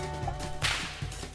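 A single sharp whip crack, the tip breaking the sound barrier, snaps loudly and close at mid-clip, followed by a softer secondary smack, with no talk.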